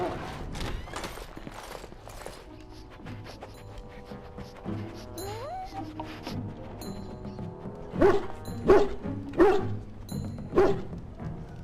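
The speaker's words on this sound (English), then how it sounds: "Get the dog out and keep him away, I beg you." A dog in the fantasy video game Dragon Age: Origins barks in a run of loud, close woofs toward the end, after a stretch of game music and footsteps, with voices talking in between.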